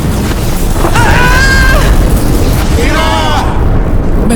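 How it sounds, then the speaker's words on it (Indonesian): A rumbling explosion from a dragon's lightning strike in an Indonesian audio drama gives a loud, sustained roar of noise, with voices or wailing tones rising and falling twice over it. "Baru saja, ledakan terjadi akibat serangan petir dari naga bajra."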